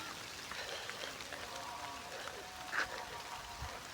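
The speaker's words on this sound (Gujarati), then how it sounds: "અને નકરા વરસાદના સાટા ખરે છે હવે તો" Steady, faint patter of raindrops dripping after an unseasonal summer storm, continuous and diffuse with a slightly louder drip near the end.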